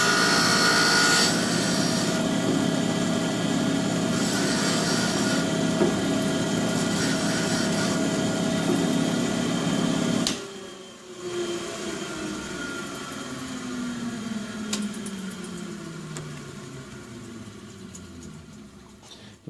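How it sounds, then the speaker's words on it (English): Grinding wheel on a valve grinder grinding the tip of an exhaust valve stem from a Simplicity 560, a steady loud whir for about ten seconds before the motor cuts off and spins down with a falling whine. "grind the tip of the stem down, and it's going to leave me with a very smooth, very flat tip"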